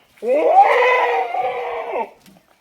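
A pure Beetal goat on a large goat farm in the Himachal forests gives one loud, close bleat about two seconds long, wavering and strained, heard alone without talk.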